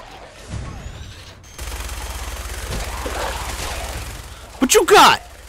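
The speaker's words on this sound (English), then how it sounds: "I should be able to do this with a minigun." Sustained rapid minigun fire in Fallout 4, a dense continuous rattle that starts after a quiet opening and runs steadily, ending with a few louder booming impacts near the close; a voice speaks briefly alongside.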